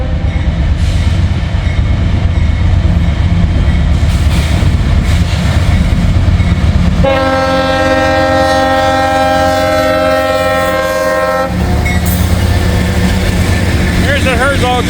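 A CSX locomotive sounds an odd-toned horn in a long, loud sustained blast over heavy rumbling rail noise, with the horn fading out near the end.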